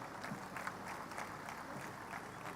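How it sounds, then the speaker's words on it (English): Audience applause at a business school convocation award ceremony: a steady, even wash of many hands clapping, heard from a distance and fairly soft, with no talk over it. "Let's keep the applause going."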